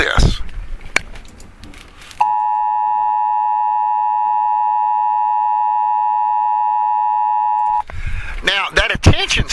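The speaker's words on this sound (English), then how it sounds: "that attention signal with that sine wave hertz frequency" Emergency Broadcast System attention signal: a steady, loud sine-wave tone holding for about five and a half seconds, with talk before and after it.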